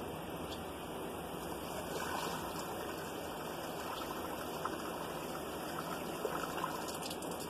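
Hot water pours into the radiator of an old Dodge D250 truck, a continuous close gushing splash that stays even throughout, with faint clinks near the end.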